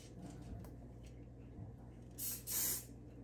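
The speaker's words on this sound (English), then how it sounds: "see how it sprays like that?" Two short bursts of an aerosol spray can misting preservative onto a mushroom, close and hissing, set against a quiet room hum with no talking.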